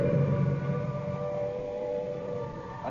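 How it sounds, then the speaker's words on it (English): Air raid sirens wail over Trafalgar Square in London at night, a steady sustained droning tone with layered harmonics holding loud and continuous throughout, with no speech. "The noise that you hear at the moment is the sound of the air raid sirens"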